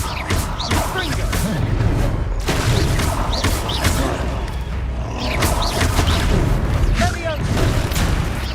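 Repeated spell blasts in the video game Hogwarts Legacy, booming crashes and thumps under dense game effects and music, with spoken incantations in between.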